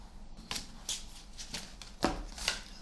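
Oracle cards being shuffled for a tarot-style reading, with soft riffling and tapping swishes in a handful of quick bursts, close and fairly quiet.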